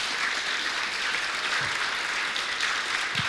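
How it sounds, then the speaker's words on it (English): Audience applause at an evening library event, steady dense clapping from a crowd filling the room for a few seconds, with no voices over it. "I hope you will join me in a round of applause in tribute to Gary."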